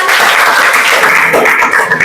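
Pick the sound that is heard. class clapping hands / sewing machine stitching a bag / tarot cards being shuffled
class clapping hands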